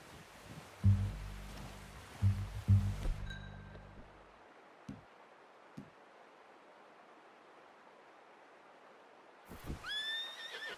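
A horse in the video game Red Dead Redemption 2 whinnies loudly, with a few soft hoof thuds in a quiet outdoor setting, then another neigh near the end.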